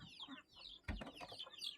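Chickens and ducks cluck in their coop in a short, faint burst of overlapping clucks and squawks, with one louder thump or flap in the middle.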